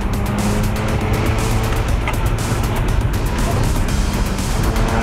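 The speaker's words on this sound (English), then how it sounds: "another car, a Japanese car with impractical horsepower. It's drift spec." A Japanese drift-spec sports car with high horsepower is driven hard, its engine roaring loud and close with steady revving and tire noise, continuous throughout, under some faint voice.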